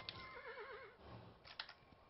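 A horse in the video game Kingdom gives a faint, wavering whinny lasting under a second, followed by soft muffled thuds and game sounds.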